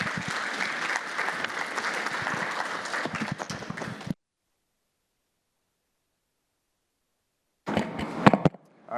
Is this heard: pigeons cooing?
no